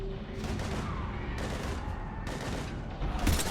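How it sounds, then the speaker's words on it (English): Dense bursts of gunfire from the Mass Effect 3 video game fill the whole stretch, loud and continuous like a firefight under heavy attack, with game voices mixed underneath. "we're taking heavy fire"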